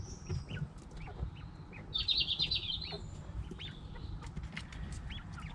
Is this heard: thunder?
no